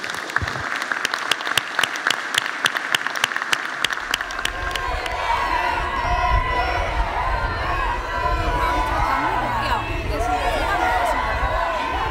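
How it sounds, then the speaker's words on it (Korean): An audience applauds a committee chairman and its members at a Korean political party gathering. Scattered individual claps quickly swell into loud, dense, sustained applause with crowd noise that holds to the end. "우리 김한길 위원장님과 위원님들께 박수 한번."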